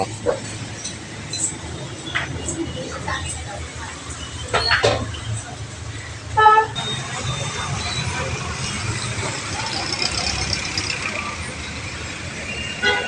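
Busy street traffic on Loyola Street in the Philippines, with trucks, buses and cars rolling past, a hiss of air brakes, short horn toots and clinks, and people talking over the steady rumble.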